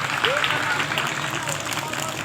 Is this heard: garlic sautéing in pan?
no